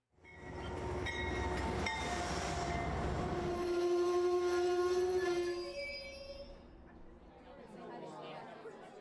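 A model train on a layout rolls into the city with a swelling rumble and sustained horn-like tones, while voices chatter underneath.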